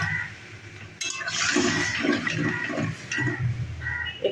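Water pours steadily into a cooking pot of potatoes for boiling, a continuous splashing gush that starts abruptly and runs on close and fairly loud, with no talking.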